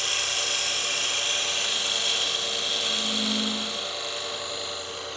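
A spindle gouge shears wood on a lathe while turning a German smoker figure, giving a continuous bright, hissing cut with a steady underlying whir that tapers slightly toward the end.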